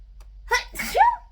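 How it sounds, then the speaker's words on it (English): A single sharp sneeze, close and fairly loud, preceded by a quick intake of breath, in an otherwise quiet room. "got the sneezes at the moment"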